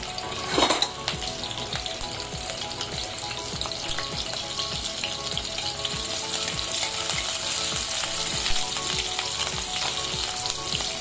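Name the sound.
garlic and green chilli sizzling in oil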